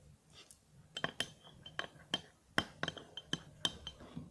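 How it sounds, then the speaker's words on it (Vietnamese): Utensil stirring condensed-milk slime mixture in a bowl, sharp clinks and taps against the bowl's side at an irregular pace, close but fairly quiet. "mình sẽ trộn đều lên tiếp."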